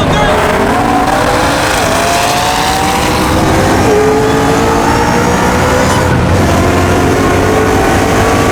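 Built Ford Mustang and McLaren accelerating side by side in a freeway roll race, a loud continuous engine roar with rising pitch through the gears and heavy wind noise, close by.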